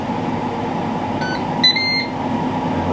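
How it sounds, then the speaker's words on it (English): A steady Ninja air fryer hum runs throughout, broken by a short series of electronic beeps, fairly close and clear. "usual Ninja beep"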